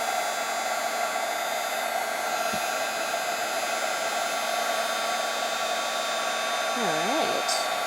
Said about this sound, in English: It doesn't take very long once the heat gun heats up.